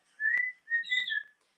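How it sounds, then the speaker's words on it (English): A pet cockatiel whistles a short phrase: two clear, bright whistled bursts, the first a single held note, the second a brief run of stepped notes, close and alone. "So in between his whistling, he's doing a little bit of"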